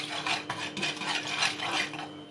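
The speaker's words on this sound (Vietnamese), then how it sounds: "Mình quậy đều." A utensil stirs in a hot pan of oil with a pinch of salt before tofu is fried, making a soft scraping, rasping sound in short continuous strokes, close and alone.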